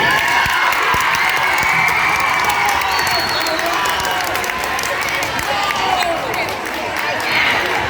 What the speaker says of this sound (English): Let's give this guy a little round of applause.